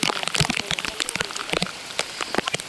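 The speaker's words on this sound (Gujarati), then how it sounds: "બહુ ભાઈ વરસાદ પડે છે" Heavy rain at a campsite, a dense close patter of drops striking surfaces with sharp irregular spatters, loud and steady throughout.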